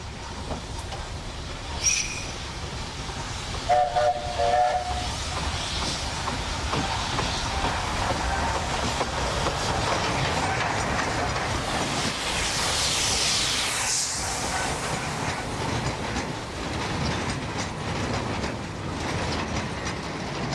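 A steam train rumbles along steadily on a railway in Kenya, with broadband wheel and track noise, a brief squeal and metallic clanks early on, continuing without voices.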